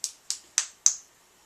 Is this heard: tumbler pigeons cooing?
no